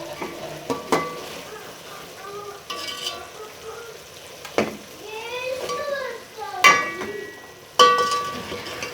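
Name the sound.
frying boiled chickpeas in a pan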